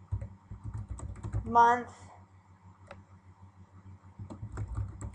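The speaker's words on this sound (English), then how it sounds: "we're going to type" A chart title is typed into an Excel spreadsheet on a computer keyboard as a run of light, close key clicks, partly under a person speaking.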